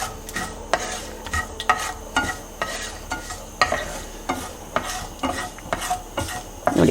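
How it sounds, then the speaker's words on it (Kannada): Cut dried red chillies frying in a pan for raw banana fries, with a utensil tapping and scraping the pan in a steady rhythm over a soft continuous sizzle, close and moderately loud. "ಒಣಮೆಣಸಿನ್ಕಾಯಿ ಹಾಕ್ತಾಯಿದ್ದೀನಿ, ಕಟ್ ಮಾಡಿದ್ದು."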